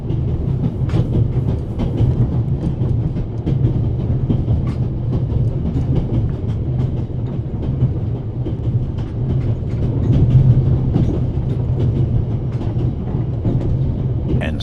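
A train carriage rolls on rails in a video game: a steady low rumble with faint rhythmic clickety-clack, continuous and fairly loud throughout.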